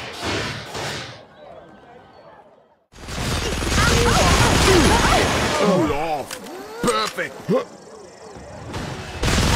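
A minigun fires in the video game The Showdown Effect, a sustained loud roaring burst that follows a quieter stretch, broken by sharp bangs and impacts near the end.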